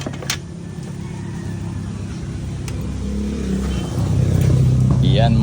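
A JAC 2020 car showing a lit check engine light with fault codes P2106 and P2127 has its engine noise swell partway through and then run on steadily, with people talking nearby.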